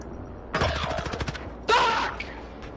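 Two rapid bursts of machine gun fire in a video game, loud and close, the first a rattling string of shots and the second a shorter blast, with no talk over them.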